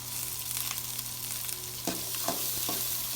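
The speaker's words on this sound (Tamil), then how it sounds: "வெங்காயத்தை லைட்டாக வறுத்துக்கோங்க" Small onions frying lightly in oil for an anchovy dried-fish curry, a steady close sizzle with a few sharp crackles and stirring scrapes toward the end, no voices.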